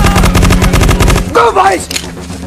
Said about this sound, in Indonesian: Adegan baku tembak yang begitu meriah dan spektakuler pun kembali terjadi.